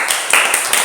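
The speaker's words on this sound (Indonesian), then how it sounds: "Kita beri tepuk tangan untuk kelompok 1 ini." A classroom of students clap briefly for a group, a quick run of sharp, close hand claps in an uneven rhythm.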